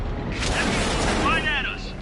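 A German Tier 3 premium medium tank fires its gun in World of Tanks. It sounds like a loud, heavy blast that merges into continuous booming engine rumble, with a faint whine near the end.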